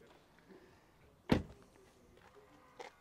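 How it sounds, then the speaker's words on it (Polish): A power-deployable side step on a Li L9 car retracts with a single sharp, fairly close clunk, followed a moment later by a fainter knock, over a quiet background. "Zobaczcie, mamy wysuwany próg."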